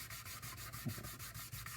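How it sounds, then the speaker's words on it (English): Steady, rhythmic hand sanding, sandpaper rubbing back and forth across an old, grimy Weber wooden work table in quick even strokes, fairly quiet and close. "I'll just sand by hand, turn it."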